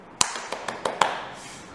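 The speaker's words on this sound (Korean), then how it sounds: "박수." A few sharp hand claps, about six in quick uneven succession, close and moderately loud in a quiet indoor room.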